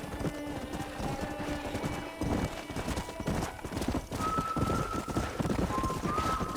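Hooves clip-clop in a quick galloping rhythm with a horse whinnying, over a soft steady background, in the video game Red Dead Redemption.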